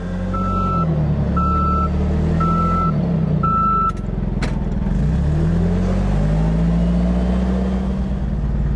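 Rented forklift working near a flatbed truck, its engine rumbling loudly and shifting pitch while four steady reversing beeps sound early on, followed by a brief metallic clank.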